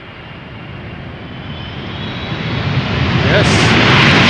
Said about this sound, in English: Arriving from Chongqing. 10 hours 27 minutes on the way. 777 freighter, 14 years old.